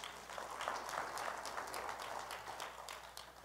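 A church congregation applauds, a dense, sustained patter of many hands clapping at a steady level that tapers slightly at the end, faint and distant.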